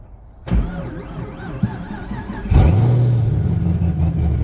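Up close, a starter whines and cranks for a couple of seconds, then a supercharged LS3 V8 in a BMW catches with a burst and settles into a loud, rumbling idle.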